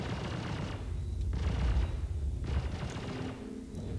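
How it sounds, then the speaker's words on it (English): Sustained bursts of gunfire and booming impacts strike a spaceship in Star Citizen, loud and continuous with rising and falling volleys over a rumbling low end. "Captain, we're being shot."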